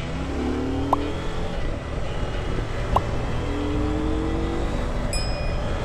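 A CF Moto 800 MT Explore motorcycle engine runs steadily and loud, pulling hard in the 4000–5000 rpm range, with a continuous droning tone and a couple of brief sharp clicks, no talk over it.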